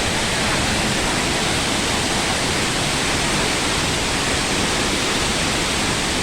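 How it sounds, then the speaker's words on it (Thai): Khlong Lan waterfall in Thailand roars in a steady, dense broadband rush of falling water, loud and close, with no pauses or other sounds. "ที่นี่น้ำตกคลองลานครับ"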